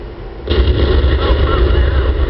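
A tank shell impact in World of Tanks hits with a sudden loud blast, followed by a sustained rumbling roar of battle noise, with a commentator's voice over it.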